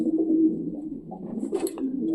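Soft, low pigeon cooing, a steady throaty burble lasting throughout, close by with a brief flutter of higher noise midway.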